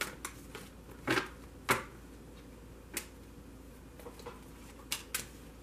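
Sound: shuffling a tarot card deck

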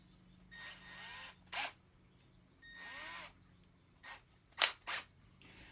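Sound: power drill polishing a seat with compound

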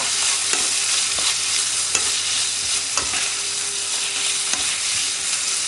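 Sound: bacon frying and being stirred in a pan

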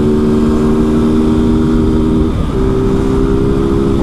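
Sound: Fan 160 motorcycle engine revving, jet command, unfiltered original exhaust

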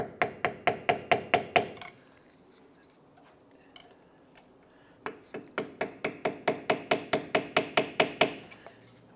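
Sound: tapping a brass insert with a tool to loosen an ABS sensor

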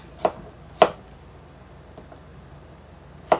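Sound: knife chopping ginger

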